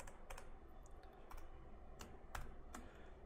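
Steady typing on a computer keyboard while entering a trigonometry formula into an Excel spreadsheet, a run of close, distinct key clicks in an uneven rhythm over a soft background hum.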